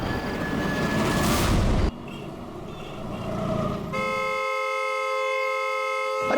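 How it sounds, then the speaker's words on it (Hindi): A vehicle horn sounds nonstop as a steady, loud, harmonic blare. It comes in after a stretch of rumbling traffic-like noise and holds unbroken to the end. "अरे कौन है ये नॉन स्टॉप हॉर्न बजा रहा है?"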